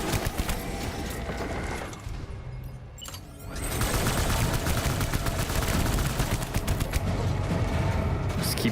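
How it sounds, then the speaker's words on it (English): Rapid gunfire from shooting in the video game Death Stranding, with dense bursts of shots crackling almost without pause, a brief lull near the middle, then sustained loud firing again. "Just keep shooting, I guess."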